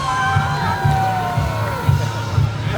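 A parade crowd cheers and whoops loudly in a steady roar, with high shouts and a low rhythmic thumping beneath.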